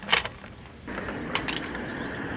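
A wrench ratchets as the rear shock bolt on a Honda CRF50 is tightened, giving a few short, close mechanical clicks and creaks in quick bursts with quiet gaps between them.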